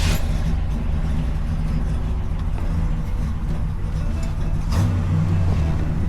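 A 1967 Pontiac Grand Prix convertible with a 400 cubic inch V8 running: a deep, steady engine rumble with low throbbing tones, close and continuous, with a couple of brief rises in pitch and no voices.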